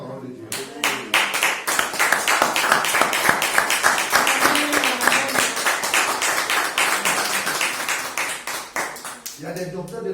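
A church congregation claps together loudly and rhythmically at a sermon about Joseph, sustained, energetic applause that fills the room, with voices calling out at the start and end.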